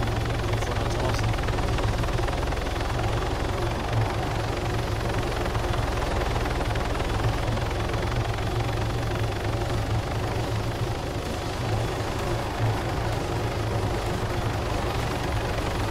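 A helicopter in the ArmA 3 military game flies continuously, a steady rotor drone with low, dense rumble holding at an even level throughout.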